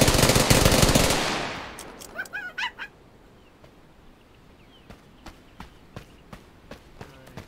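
An Uzi submachine gun opens with a loud, dense burst of rapid fire, followed by scattered shorter bursts and single sharp cracks that thin out and fade, with no talking.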